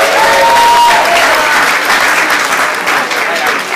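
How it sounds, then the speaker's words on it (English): A crowd at a Hispanic Heritage Month event breaks into loud, sustained applause. Dense clapping comes through close and full, with some crowd voices mixed in, easing slightly toward the end. "Give them a big round of applause."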